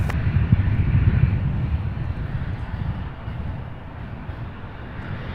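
A UPS heavy freighter jet takes off from runway 35 right at Louisville's SDF airport, its engine roar loud at first and then slowly fading as it climbs away, a deep and continuous rumble with no talk.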